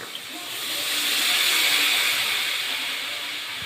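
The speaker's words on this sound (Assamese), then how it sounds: "এতিয়া গৰম পানীখিনি দি দিওঁ।" Hot water poured into a pan of fried greens, a loud steaming hiss that swells and fades over a few seconds, close up, with no talking.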